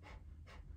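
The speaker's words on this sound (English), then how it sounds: "Inhale through the nose. Exhale through the nose." Two quick, forceful nasal breaths pumped in and out during Kundalini yoga breathing practice, close and fairly soft, with no talking.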